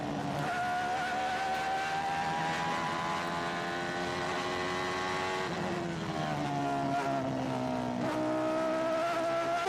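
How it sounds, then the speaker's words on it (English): Ferrari Formula One cars from the 1989 season race past with a loud, sustained high-pitched engine scream, pitch sliding down and rising again as they pass, under steady crowd and track ambience. "Mansell, in the other Ferrari, was after Patrese's lead"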